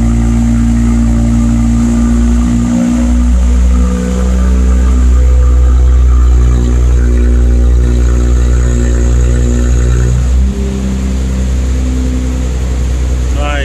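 Infiniti Q50 with a Rev9 catback and PLM axle-back exhaust rumbling steadily while driving, a loud continuous low drone with slight shifts in pitch and a brief dip near the end.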